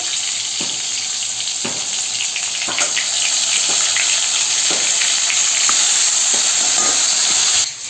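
Ginger and chili paste hits hot oil in a pan, setting off a loud, steady sizzle and frying hiss, with soft stirring scrapes now and then over the constant crackle.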